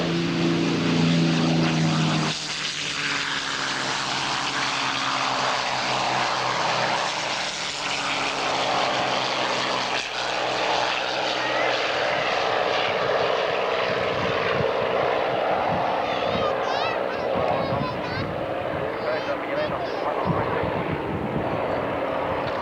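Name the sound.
aircraft engines at an airshow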